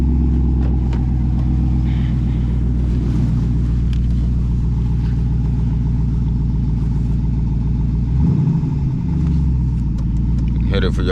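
Loud, continuous low rumble from a straight-piped 2019 Jeep SRT with an otherwise stock setup, heard while driving, droning steadily close up with a brief surge partway through.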